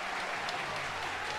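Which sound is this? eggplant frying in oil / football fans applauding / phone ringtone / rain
football fans applauding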